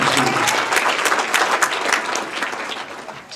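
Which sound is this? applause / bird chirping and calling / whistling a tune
applause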